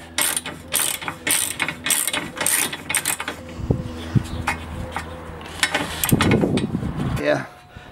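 A ratchet undoes the 16mm bolt on a Porsche 911 996 bumper crash bar, a rapid run of close, loud clicking strokes followed by metallic clinks and handling noise, with someone talking.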